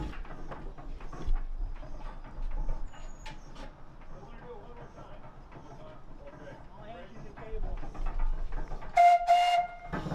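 A 1908 Dolbeer steam logging engine (steam donkey), wood-fired, chugs and clanks with irregular mechanical knocks, people talking nearby, and a brief shrill whistle near the end.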